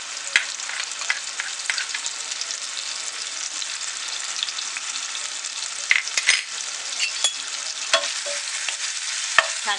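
Spices and ginger-garlic paste sautéed in hot oil for a Maharashtrian peas and potato bhaji: a steady bright sizzle with intermittent stirring clicks from a spoon in the pan, close and continuous, with no talking.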